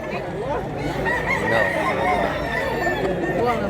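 A young rooster crows loudly and close by, a drawn-out cock-a-doodle-doo over a busy background of other chickens clucking and people talking.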